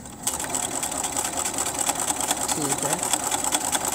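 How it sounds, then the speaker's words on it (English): A sewing machine runs continuously, stitching a quilt seam with a fast, steady mechanical whir close by, while a voice speaks briefly over it. "Now I'm going to stitch all the way back"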